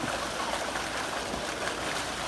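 Water gushing strongly from a slow-running water pump motor, a dense, continuous splashing rush close by that holds steady and fairly loud throughout, with no talk over it.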